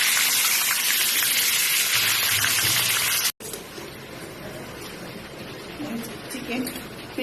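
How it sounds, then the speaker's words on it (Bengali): Chicken pieces fry lightly in a pan with a loud, bright, steady sizzle that breaks off briefly, then continues more softly with gentle stirring noises and a low voice in the background. "এর মধ্যে চিকেন পিসগুলো দিয়ে হালকা করে ভেজে নেব।"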